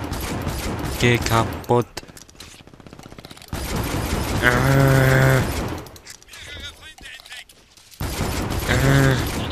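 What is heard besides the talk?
gunfire in the video game Brink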